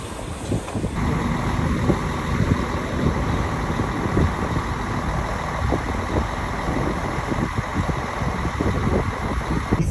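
A tour bus engine idles beside a cruise ship at the port of Split, Croatia, producing a steady close rumble with a continuous high whine overhead and occasional clanks, and no talking.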